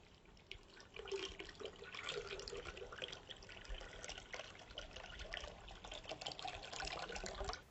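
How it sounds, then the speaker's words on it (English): Eight ounces of water poured into a Portuguese Navy ration pouch, a steady trickling pour running for several seconds, close and faint. "We'll add our 8 ounces of water to this."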